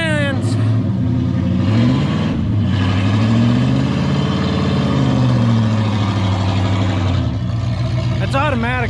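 A Subaru EG33 flat-six with a turbo and a new exhaust runs steadily, its deep burbling drone swelling and easing through revs. It stays close and loud throughout, with brief voices near the end.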